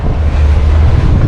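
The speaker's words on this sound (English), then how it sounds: "it's really windy, man." Heavy wind buffeting a microphone outdoors on a downtown Los Angeles street, a loud continuous low rumble with no voices.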